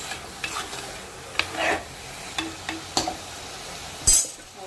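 Chicken pieces going into hot spiced oil for a chicken curry, with soft sizzling under repeated stirring scrapes and clinks of a spoon against the pan, ending in a louder metallic knock.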